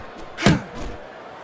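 A straight right punch lands in the boxing video game Fight Night Champion as a single heavy thud with a sharp attack, followed by a softer, fainter thump.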